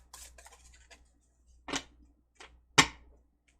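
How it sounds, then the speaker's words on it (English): A deck of tarot cards being shuffled by hand, heard as sparse crisp riffling snaps and brushes spaced apart, close and fairly quiet in a still room, with no talk. "I am going to be shuffling here until something drops out for you."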